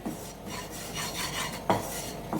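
Chilli spice powder dry-roasting in a pan as it is stirred, giving soft close scraping and rubbing strokes with a couple of light clinks, fairly quiet.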